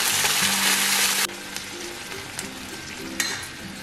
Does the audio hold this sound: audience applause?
no